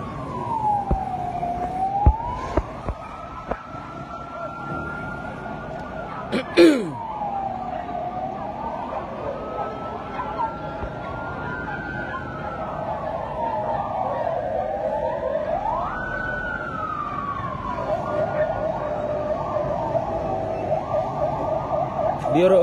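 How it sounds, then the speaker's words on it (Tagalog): Fire truck sirens wail at a house fire in Barangay South Triangle, Quezon City, with several rising and falling tones overlapping as the trucks arrive, over street noise and occasional voices. "Buti maraming fire truck ang Quezon City"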